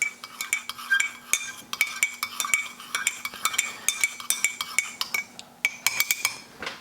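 A metal spoon stirs a vitamin C drink from a Russian emergency ration in a cup, giving rapid, rhythmic clinks and scrapes against the sides, close and continuous with no talk.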